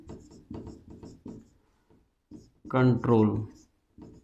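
Marker or chalk writing on a board during a lesson on Fanuc CNC control codes, a series of short scratchy strokes in bursts, with someone speaking briefly in between.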